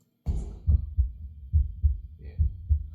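A music-production heartbeat sound effect: deep, booming low thumps in paired lub-dub beats repeating steadily at a moderate pace, loud and close, with no talking.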